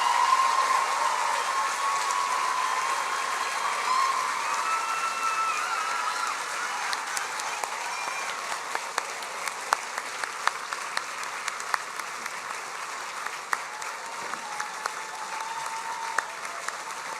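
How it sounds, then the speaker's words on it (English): A crowd at a university graduation ceremony in Essex breaks into sustained applause, dense clapping that runs loud and steady for many seconds before thinning into scattered claps. "So, round of applause."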